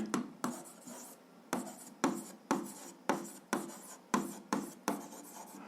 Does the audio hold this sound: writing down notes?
yes